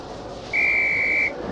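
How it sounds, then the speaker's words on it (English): Flying instructor's whistle in the Harry Potter and the Philosopher's Stone PS1 game, one sustained, piercing blast lasting under a second over a quiet background. "On my whistle."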